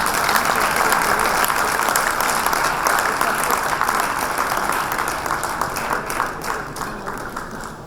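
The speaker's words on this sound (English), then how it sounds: "amidst our thunderous round of applause, ladies and gentlemen" Thunderous applause fills a conference opening ceremony as a souvenir is unveiled on the dais, with loud dense clapping from a large audience that slowly thins and fades toward the end.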